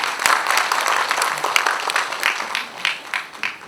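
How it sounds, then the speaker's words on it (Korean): An audience at a residents' briefing on apartment reconstruction applauds steadily to welcome a lawyer to the stage, a dense, even wash of clapping heard alone for several seconds. "박수로 맞이해 주시기 바랍니다"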